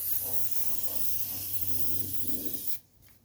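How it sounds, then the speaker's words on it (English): Multi-purpose adhesive sprays in a steady hiss onto a 1983 Mercedes 300TD car door over old factory glue marks, a close continuous burst lasting almost three seconds before cutting off abruptly. "So we just want to go spray over the factory"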